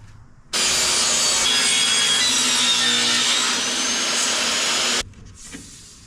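A power saw cuts a bevel along a wooden piece for a trailer shower, a loud continuous rasping whine starting abruptly and stopping after about four and a half seconds, close up with no talk.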